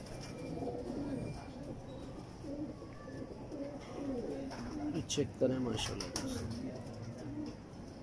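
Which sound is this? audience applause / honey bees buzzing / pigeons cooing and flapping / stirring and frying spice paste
pigeons cooing and flapping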